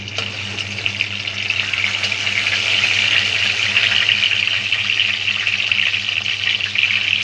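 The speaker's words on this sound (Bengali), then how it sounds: "এবার আমি দিয়ে দিচ্ছি কাটা টমেটোটা।" Chopped tomatoes hitting hot oil and frying, a steady loud sizzle that holds evenly throughout with no voices over it.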